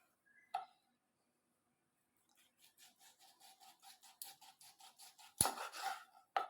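A knife works through fish on a cutting board in a village kitchen, slicing it into round pieces. An isolated knock comes first, then a steady run of quick, even strokes, ending in a louder thud and clatter, close by without talking.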